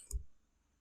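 One quiet, close computer mouse click, short and crisp, followed by near silence.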